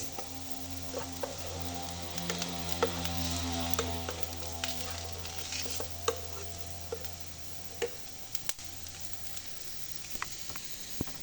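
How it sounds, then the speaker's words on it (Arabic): Chopped boiled vegetable sautéing in a little oil, a steady soft sizzle and crackle heard close up, with occasional sharp ticks and stirring clicks and no talking. "غادي نشحرو حتى هو بشويه زيت"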